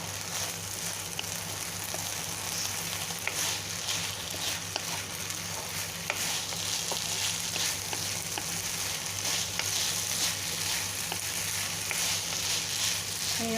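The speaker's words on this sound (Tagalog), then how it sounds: "lagyan natin siya ng cornstarch. Okay. Lagyan natin. Ayan. At haluin natin." Lumpia Shanghai spring roll filling stirred with cornstarch in a hot pan, giving a steady, fairly loud sizzle and soft scraping throughout, with no break.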